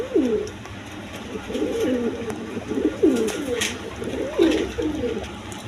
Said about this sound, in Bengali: দর্শকবৃন্দ এখানে এক পেয়ার কালারিং রাজগোল্লা কবুতর আছে।